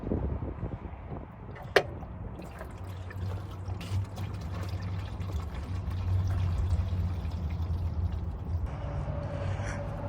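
Coolant draining from the radiator drain of a Mazda Miata, a steady low pouring trickle running continuously, with a sharp tap near the start and a faint tone creeping in toward the end.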